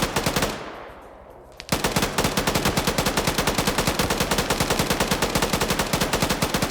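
Relentless rapid machine gun fire in a military video game battle, a dense rattling barrage of closely spaced shots with a brief swelling lull before the bursts resume at full intensity.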